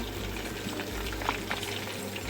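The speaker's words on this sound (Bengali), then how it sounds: "ঠিক এইভাবে আমি উল্টিয়ে পাল্টিয়ে প্রত্যেকটাকে ভেজে নেব" Water lily flower pakoras fry in hot oil with a continuous close sizzle and bubbling, crackling steadily without any talk.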